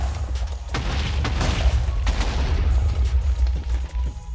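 Loud, deep Minecraft explosions rumble continuously, with several heavy booms and crackling bursts layered over a low roar.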